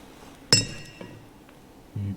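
A metal part drops out of a Land Rover gearbox with one sharp, bright metallic clink, followed by a faint second tap and a short low thump.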